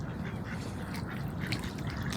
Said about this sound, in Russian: Вот есть утки на открытой воде